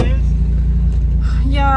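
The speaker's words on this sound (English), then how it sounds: "You can just hear it scraping it off." Car tyres scraping against rolled wheel arches during a drifting session, heard as a steady low rumbling engine drone with a faint grinding texture underneath, with people talking over it.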